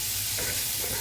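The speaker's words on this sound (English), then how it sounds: "now I'm going to add my mushroom." Mushrooms hit a hot frying pan with a loud, steady, close-up sizzle that fills the whole moment.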